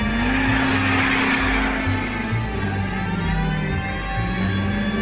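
A car sliding under the handbrake in L.A. Noire, a sustained tire squeal over a droning engine that rises and falls in pitch, loud and continuous.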